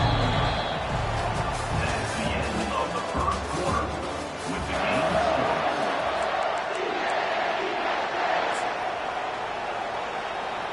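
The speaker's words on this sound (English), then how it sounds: "listen to the roar of this crowd" A stadium crowd at a football game roars in a sustained, dense wall of cheering and shouting, swelling and easing slightly, with a play-by-play voice talking over it.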